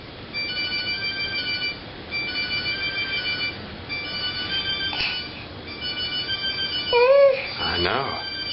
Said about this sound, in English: Uh-oh, that's a phone.